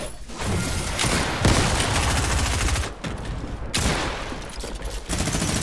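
Gunfire from a Fortnite Chapter 2, Season 2 match rattles out in loud, rapid bursts of repeated shots, broken by brief lulls and then resuming, with booming impacts mixed in.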